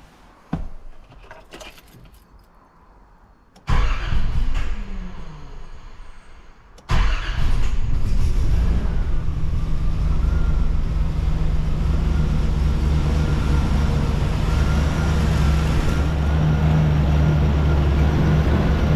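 A Nissan Patrol GQ 4WD truck engine cranks and catches after a couple of attempts, then settles into a loud, steady idle close by.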